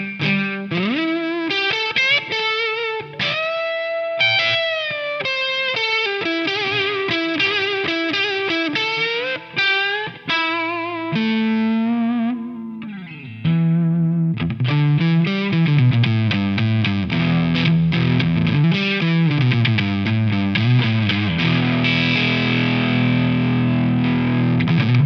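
An electric guitar with its bridge pickup coil split plays through distortion and other effects, with sustained bends and melodic runs followed by chunkier chords, loud and continuous for the whole stretch with no talking.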